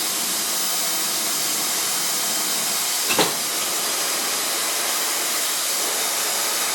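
A hair dryer blows with a continuous airy roar, interrupted once by a brief knock or bump partway through.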